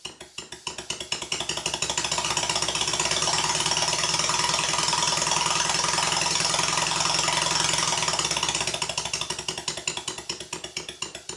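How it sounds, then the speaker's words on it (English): Two Stuart Sirius model steam engines chuff rapidly and rhythmically, one with late valve timing, swelling louder in the middle then easing off, with faint metallic clinks. "there's a considerable difference in the sound of the two engines"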